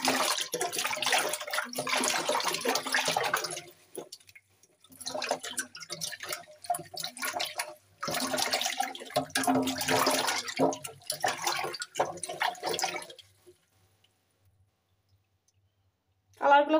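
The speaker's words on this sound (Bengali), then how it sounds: "এই যে গাজরগুলো সুন্দর করে ধুয়ে নিচ্ছি" Tap water runs and splashes as carrots are washed by hand, a close, hissing gush that stops and starts in several long stretches, then falls silent near the end.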